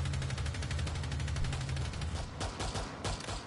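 Rapid bursts of video game gunfire fill the scene, loud and steady with a low hum underneath, then give way to a few sharper, separated shots near the end.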